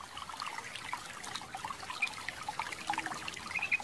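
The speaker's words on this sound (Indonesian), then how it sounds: "Semen putih kita campur air, kita aduk-aduk." Water poured into white cement mix gives a steady wet trickle and dribble, close and continuous, with small splashy accents and no talking.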